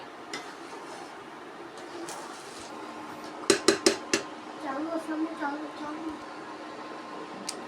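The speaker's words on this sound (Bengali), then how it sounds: "যাই হোক, নেড়ে চেড়ে নিচ্ছি।" Khichuri stirred in a cooking pot, with a quick run of four sharp metal-on-pot scrapes and knocks, then softer scraping and clinks over a steady kitchen background.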